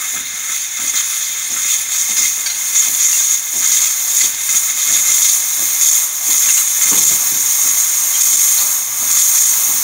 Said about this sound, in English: And then we'll do steam.